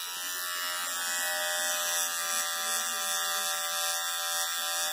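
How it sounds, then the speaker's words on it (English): Electric beard trimmer fading a haircut, a steady close buzzing hum with a bright tonal whine, continuous and even for the whole stretch with no talking. "We're going to use the beard trimmer to fade that in."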